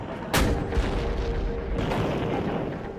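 A tank's main gun fires a shell with one sharp, heavy boom, followed by a rumbling roar that lingers and swells in the open battlefield.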